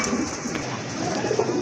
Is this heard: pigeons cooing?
yes